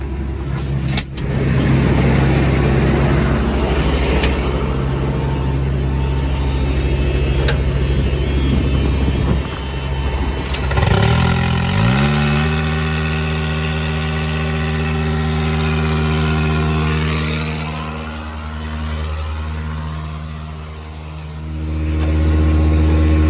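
A T7040 tractor engine running hard while hauling slurry, a loud steady drone with a turbo whine, the pitch dropping and shifting midway before settling into a lower steady hum.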